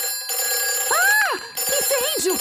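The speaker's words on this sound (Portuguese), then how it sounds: "Peppa, esse é o telefone do bombeiro." The fire station telephone in a cartoon rings in two short bursts of warbling electronic trills, separated by a brief gap, close and clear with nothing else over it.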